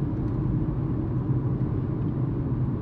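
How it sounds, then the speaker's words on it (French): Steady, loud tyre roar and low rumble from a Dacia Spring cruising on noisy anti-skid motorway asphalt near Strasbourg, an even continuous drone from inside the car with no talk. "N'importe quelle voiture ferait du bruit sur cet enrobage routier qui est antidérapant, mais du coup un peu bruyant."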